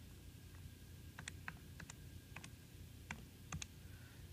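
Buttons pressed on a calculator while solving a cylinder surface-area problem: a quiet, irregular series of about a dozen light plastic clicks, close up and alone, with no talking.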